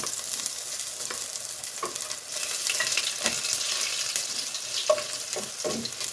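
Crushed garlic frying in hot oil just after mustard seeds have popped, a steady close sizzle with occasional sharp crackles and light spatters throughout, no talking.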